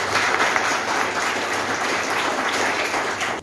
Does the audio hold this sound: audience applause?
yes